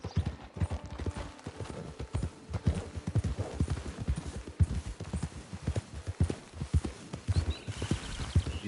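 A horse walks at a steady pace in the video game Red Dead Redemption 2, its hooves producing a continuous, close rhythmic clip-clop with no talking over it.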